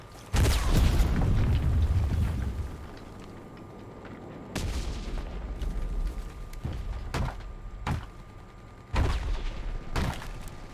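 Grenade blasts in a video game land as deep booms. The first is heaviest, with a long rumbling tail, and several sharper blasts follow at uneven intervals.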